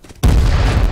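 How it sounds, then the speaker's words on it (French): A grenade explosion in the video game H1Z1: after a brief quiet moment, a sudden loud, close, deep boom hits and rolls on with a heavy rumble. "On va le tuer à la grenade"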